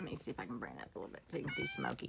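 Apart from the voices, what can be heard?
black and gray cat meowing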